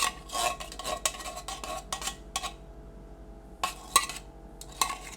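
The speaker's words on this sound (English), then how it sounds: "you mix the soup, the broth, and the rice" A spoon stirs soup, broth and rice together in a crock pot, producing close, quick scraping and clinking against the pot in bursts, with a short quiet pause midway.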